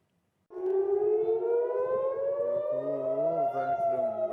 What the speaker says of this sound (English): Israelis living in central Israel near Tel Aviv were forced to shelter upon hearing the air raid sirens